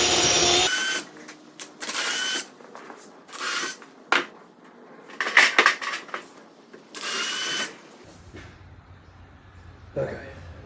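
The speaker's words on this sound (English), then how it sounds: "I'm gonna drill holes big enough for the bolts to go through" Power drill boring bolt holes through a wooden barn door, with several bursts of whining drilling separated by pauses, close and loud, ending with a softer final burst.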